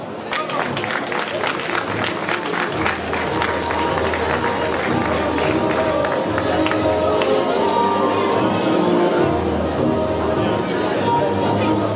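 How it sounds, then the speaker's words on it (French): Crowd applause at a triathlon prize ceremony, steady sustained clapping from many spectators outdoors with chatter and some cheering mixed in, continuing for the whole stretch. "Applaudissements."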